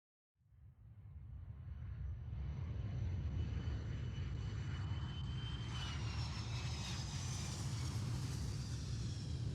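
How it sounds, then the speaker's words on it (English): An airplane engine in The Silver Case video game starts abruptly and settles into a loud, steady roar and rumble that fills the whole stretch, with a faint rising whine. "We are on an airplane."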